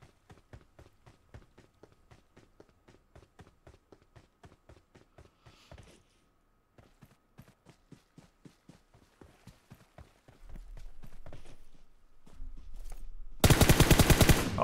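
Rapid rhythmic gunfire from PUBG Mobile, evenly spaced sharp shots in long bursts with a short pause, followed by a louder low rumble and a harsh burst at the end.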